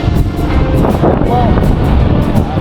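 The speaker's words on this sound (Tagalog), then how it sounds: "Malakas ng hangin." Strong outdoor wind buffets the microphone, producing a loud, constant low rumble and roar that fills the whole stretch.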